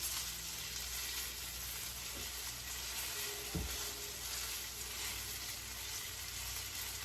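Peach fritters frying in hot oil, a faint, steady hiss of sizzling bubbles throughout with a couple of soft knocks, heard at a distance and without any voices.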